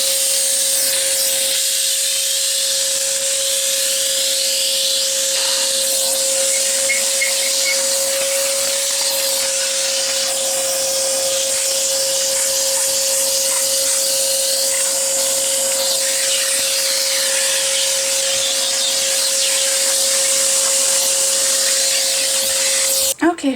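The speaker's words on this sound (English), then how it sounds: "I still have to get the vacuum cleaner and get all of the ashes from the track right here." A vacuum cleaner runs continuously while cleaning ashes from a fireplace track in a living room, a loud, steady motor whine with a constant tone, accompanied by scraping and rubbing as the nozzle moves along the track.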